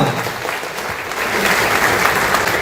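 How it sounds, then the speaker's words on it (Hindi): A crowd at a community gathering applauding, a dense, loud wash of clapping that swells slightly and holds steady to the end. "तालियां।"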